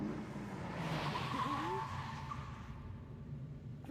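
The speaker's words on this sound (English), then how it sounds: "Can you not hear the car?" Racing car in an Initial D anime episode, engine roar and tire squeal building under the soundtrack, fairly loud and steady with a brief skid-like whine mid-clip.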